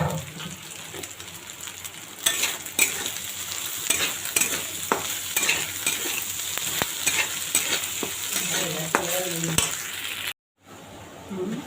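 Previously fried prawns are tossed into scrambled egg frying in a pan for spicy pasta, a steady sizzle with frequent spatula knocks and scrapes; the sound cuts out briefly near the end before resuming.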